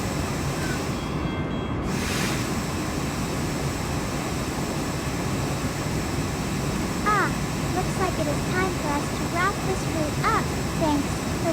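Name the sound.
train running in the video game Open Rails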